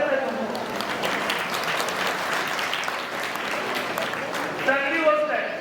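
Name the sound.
audience applause at school ceremony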